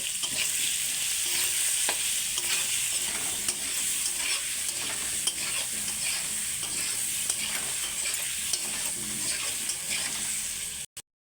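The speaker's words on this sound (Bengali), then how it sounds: "হলুদের গুঁড়ো, লবণ, আলুগুলো ভালো করে ভেজে নেব" Steady oily sizzling of potatoes frying in a pan, with frequent scraping strokes of a spatula stirring them, continuous and close.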